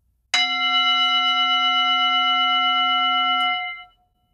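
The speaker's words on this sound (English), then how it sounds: "just take the striker and hit it on the side" A Tibetan singing bowl is struck once on the side with a striker, ringing out with a clear, sustained metallic tone and layered overtones that hold steadily for about three seconds before fading.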